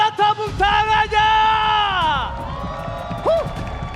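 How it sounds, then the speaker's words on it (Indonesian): Esports crowd in a velodrome arena at an MPL Indonesia playoff match, cheering and shouting loudly, with a prominent announcer-like voice and sustained tonal sounds over the roar. "So, Velodrome mana tepuk tangannya?"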